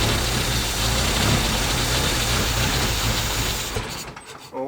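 An engine not firing on all cylinders runs at idle with a loud, rough, uneven low rumble that holds steady, then drops away near the end.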